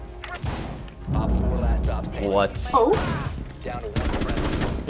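Rapid bursts of automatic gunfire in Rainbow Six Siege crackle in sharp clusters near the start and again toward the end, while players talk and shout excitedly over the shooting.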